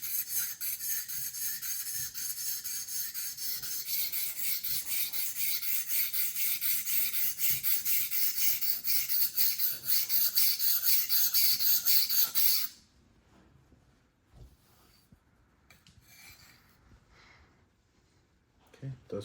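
A knife is drawn across a whetstone in a steady, gritty rasping rhythm of repeated strokes, fairly close. The scraping stops after about thirteen seconds, leaving quiet handling noises.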